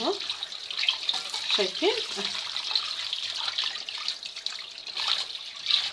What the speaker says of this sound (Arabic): فاتحه الدماغ كده غسلاها كده ومشطفاها كويس اهو